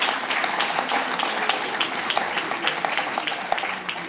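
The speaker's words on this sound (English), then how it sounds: "Can we please give them a hand of applause?" An audience at a Johannesburg hackathon gives a steady round of applause for the top ten teams, dense even clapping filling the space without speech.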